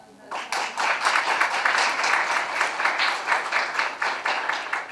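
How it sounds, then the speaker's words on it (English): An audience at a college course closing ceremony claps together in a sustained, rhythmic burst of applause, loud and close, starting abruptly and running steadily to the end. "Please clap with the zeal and energy."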